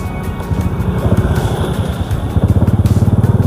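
A motorcycle engine putters and revs nearby, its rapid pulsing exhaust beats rising and falling over a few seconds.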